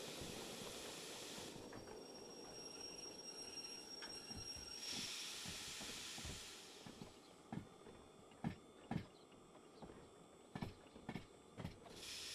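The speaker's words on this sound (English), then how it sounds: "we don't have to go too far with the train" A train rumbling along rails with a steady mechanical hiss, then rhythmic clacks of wheels over track joints, faint and in the train simulator game Derail Valley.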